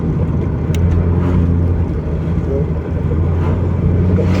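A 2001 Porsche 986 Boxster S 3.2 Tiptronic with an aftermarket dB killer rumbles low and steady while driving, partly masked by heavy wind noise.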